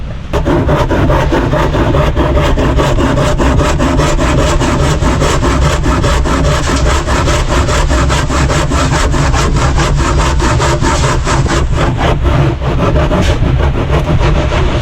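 Steady, continuous rasping of a hand saw cutting through wood, loud and close, with rhythmic strokes throughout and no voices.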